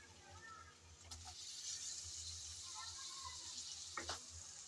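Two chopped tomatoes are tipped into a fish masala sizzling in oil: a steady, close frying hiss runs throughout, broken by a couple of brief metallic clinks.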